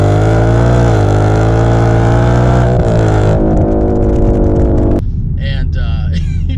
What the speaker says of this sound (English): And you can hear the whine. It downshifts pretty quick for you in normal mode and everything.